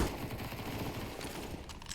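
Rapid, dense gunfire in a Valorant esports match, a continuous burst of shots with a busy, compressed game-audio character and no clear voice.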